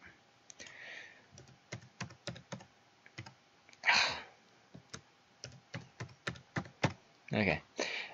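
A password typed on a computer keyboard, close and quiet, with irregular bursts of sharp key clicks and short pauses, plus a soft breath or sigh partway through.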